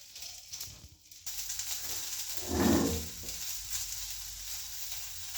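Food fries in a hot pan with a steady hiss and crackle throughout, swelling louder for a moment midway before settling back to an even sizzle; no one speaks.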